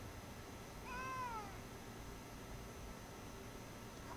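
A cat in the card game MTG Arena gives one short meow, a faint, clear mew rising and falling over a steady hiss of background noise.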